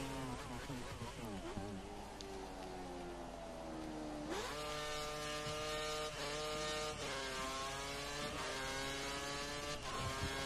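F1 car from the F1 2013 racing game at the Chinese circuit, its engine screaming at high revs with rising and falling gear-change sweeps, loud and continuous throughout, with a sharp upshift jump partway through.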